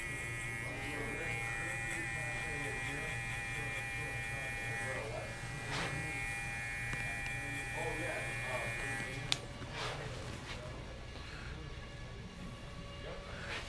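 An FXONE hair clipper cuts hair with a continuous close electric buzz, broken by a few brief clicks near the end; someone talks over it while working.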